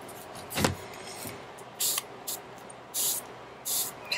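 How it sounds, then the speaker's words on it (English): Short bursts of yellow paint sprayed into a palette while painting on a fabric shopping bag: four crisp hissing spurts, near and fairly loud, separated by brief pauses, with a softer spray earlier. "So now I'm going to spray a bit more yellow into"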